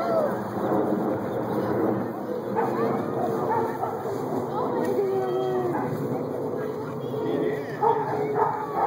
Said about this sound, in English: Penny was sitting by him barking